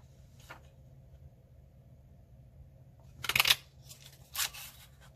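A handheld paper punch stamping dragonfly shapes out of card, giving a few sharp close clicks and crunches in two short bursts after a near-silent stretch.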